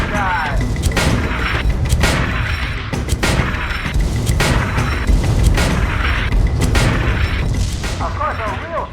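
Repeated heavy mortar blasts boom from an airship in the Guns of Icarus game, a dense barrage of loud explosions and gunfire layered over a constant mechanical engine roar.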